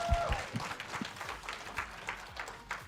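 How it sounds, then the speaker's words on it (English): An audience applauds at a lifestyle presentation, a moderate, fairly distant patter of clapping hands with a few louder claps near the start. "let's give Sean another round of applause"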